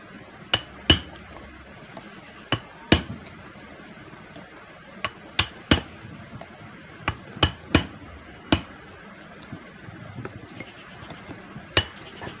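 A carpenter hammers a chisel into wood to cut a hole, producing sharp, irregularly spaced strikes, roughly fifteen crisp taps over quiet background.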